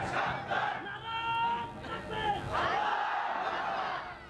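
Crowd at an Islamic waz mahfil religious gathering shouts takbir in unison, a loud sustained mass of voices rising and swelling for several seconds, with a second surge near the end.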